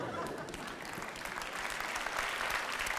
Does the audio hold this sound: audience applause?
yes